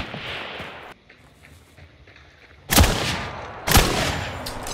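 Two loud, sharp gunshots ring out in a Hunt: Showdown match, each a close, heavy crack with a long echoing tail, following a stretch of quieter ambient noise.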